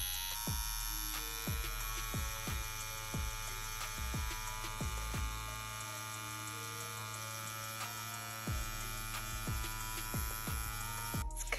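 A tattoo machine fitted with a cartridge needle buzzes continuously at close range, a steady electric hum with regular repeating pulses, alone without talk.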